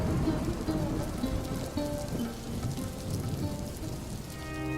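Rain pours steadily with a dense, even patter on the surfaces around a village hut, heard at moderate volume with no voices.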